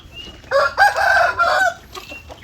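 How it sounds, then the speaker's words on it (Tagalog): Roosters crow loudly and close by in a chicken breeding pen on a farm, two or three drawn-out calls overlapping with hens clucking, and no talking. "So lahat ng mga roosters ay pinapalabas natin."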